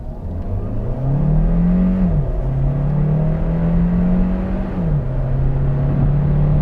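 A 2024 Kia Sportage with a 1.6-liter turbocharged direct-injected inline-four hybrid, electric motor and 6-speed automatic, accelerating loudly and close, its engine drone rising steadily, easing briefly, then climbing again through the shifts, with no talk.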